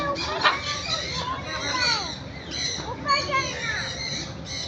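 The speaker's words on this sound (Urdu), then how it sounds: "طوطوں کی چہچہاہٹ اور بچوں کی آوازیں پورے ماحول کو خوشیوں سے بھر دیتی ہیں" Parrots squawk and chatter in dense overlapping bursts at a zoo in Islamabad, with children's voices mixed through the lively, busy din.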